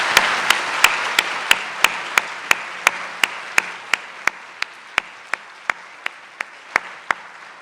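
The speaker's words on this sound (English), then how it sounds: "Let's give him a round of applause." Steady audience applause at a Lehman College academic convocation, a dense wash of many hands with sharp, regular louder claps standing out near the front, lasting several seconds.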